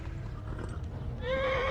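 A horse whinnies in the medieval video game Kingdom Come: Deliverance, a short rising neigh that comes in near the end over low rumbling hoofbeats and background noise.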